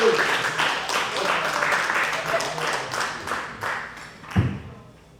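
A roast audience applauds the next roaster with dense, sustained clapping that thins out over a few seconds, with a thud near the end and voices mixed in.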